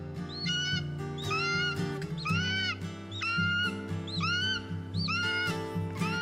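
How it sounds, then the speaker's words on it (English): A golden eagle calling on open cliffs, a series of thin, squeaky rising-and-falling whistles repeated in short clusters of three or four, fairly close and clear over steady background hum. "Here's the surprisingly squeaky sound of a golden eagle."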